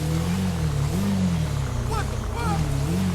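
A loud Suzuki motorcycle engine drones and revs up and down close by in GTA 5, with a brief higher whine.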